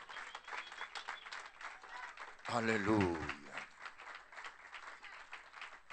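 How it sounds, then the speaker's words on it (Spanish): Church congregation bursts into applause at an evangelical crusade, a loud swell of clapping rising briefly mid-clip, with a preacher speaking before and after it. "dele ese aplauso"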